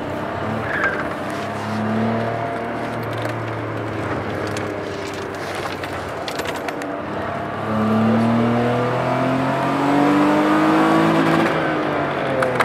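Go-kart engines whine and rise in pitch as the karts drive past, with tires squealing and skidding on the track; the buzzing motors sweep up and down, fairly loud and continuous.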